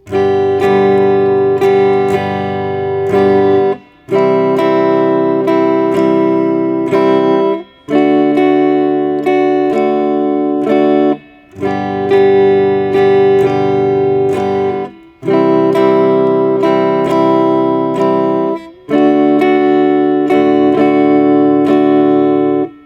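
Guitar strummed in a steady rhythm through a I-IV-V chord progression, with short pauses between the chord changes, loud and close with no voices.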